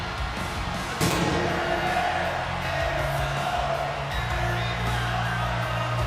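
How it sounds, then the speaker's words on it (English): Sold-out wrestling arena crowd in WWE 2K23 roaring and cheering in Orlando, Florida, a dense continuous wall of noise that swells with a sharp burst about a second in and stays loud throughout. "Listen to this sold-out crowd here at Orlando, Florida. They are absolutely off of their feet."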